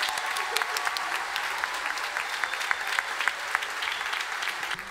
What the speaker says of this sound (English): So can we have a massive round of applause for Joy, please?